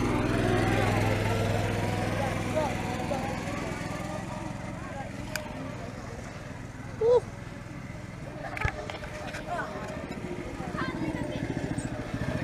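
A go-kart engine drones steadily as the kart runs along the straight at a campsite track, loud at first and easing off, with a few brief knocks and clatters partway through.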